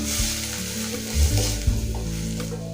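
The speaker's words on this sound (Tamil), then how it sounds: "வெங்காயமும் பூண்டும் லைட்டாக ஃப்ரை பண்ணால் போதும்" Finely chopped onion and garlic sizzle in a pan, a steady close frying hiss with a few scraping stirs and low knocks of the spoon, no voices.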